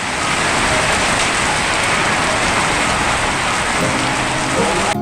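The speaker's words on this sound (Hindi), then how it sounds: "शुमलाई में हमारे इस्तकबाल तूफ़ानी बारिश" Heavy stormy rain pours steadily in the hill village of Shumlai near Battagram, a dense, loud, continuous hiss of downpour with no pauses, with a faint low rumble beneath.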